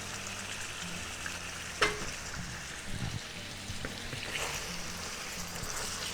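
Ginger garlic paste fries in a pan for a korma, a faint, quiet sizzle with a sharp clink of the spoon and a few soft scrapes as it is stirred.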